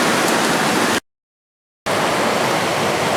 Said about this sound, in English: Now this is where the side creek joins into the Jacks River